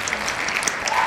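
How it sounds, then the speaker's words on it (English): A short burst of applause, a brief crowd clapping effect heard at moderate level during a wrestling game discussion, with a few brighter claps standing out. "And you a round of applause."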